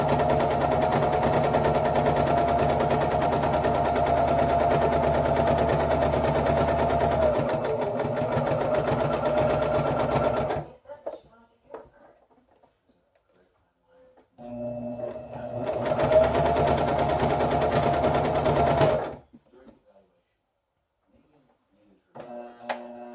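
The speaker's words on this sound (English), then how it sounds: "I'm just using a straight stitch, nothing fancy. And I'm going to sew like 3/4 of the way around," A sewing machine runs a straight stitch around a curved fleece pad, whirring steadily and loudly for about ten seconds, pausing, then running again for a few seconds before stopping, with small handling noises in the gaps.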